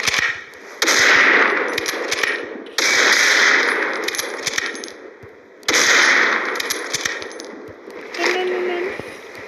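Rapid bursts of gunfire in a shooter video game, three long loud volleys with sharp metallic clinks, separated by brief pauses.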